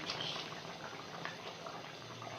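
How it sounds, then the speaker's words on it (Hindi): Chicken sizzles and bubbles in a karahi over a high flame as its water cooks off, a steady close-up simmering hiss with faint crackles and no talk. "चिकन को हमने कढ़ाई में डाल दिया है और अब फ्लेम को हमने हाई कर दिया।"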